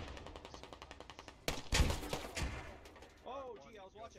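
Grenade launcher firing in the tactical shooter Squad, a sharp loud blast and echoing boom following a rapid string of distant gunfire, with voices talking at the end.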